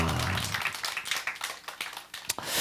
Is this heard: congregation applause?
yes